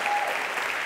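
An audience at a talk on cancer research applauds, giving a brief, dense burst of steady clapping that sounds moderately close, with no talking.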